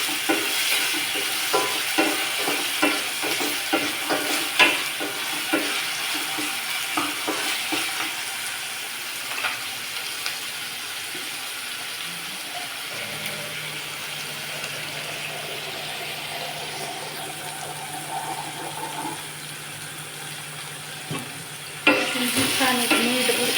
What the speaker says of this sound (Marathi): छान एक मिनिटभर परतू द्यायचं.